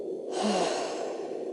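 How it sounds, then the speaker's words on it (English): One slow, gentle breath is drawn in and let out, soft and close, a calming exhale with nothing else heard. "breathe in gently, hold it for a couple of seconds and then out nice and gently"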